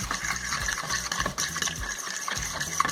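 Half-melted margarine is poured into banana cake batter, giving a steady, close, wet pouring and sloshing sound with soft, rhythmic low thumps underneath.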